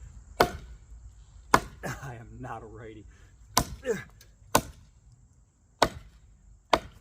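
Repeated hard, sharp chops of a Gladiator knife hacking into solid wood, seven strikes at uneven intervals, with someone briefly talking between the early blows.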